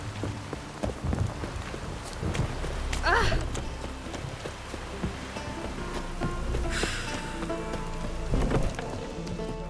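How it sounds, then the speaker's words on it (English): Steady rain in The Witcher 3 patters across a surface, with occasional louder splashes and a faint voice now and then. "It's raining."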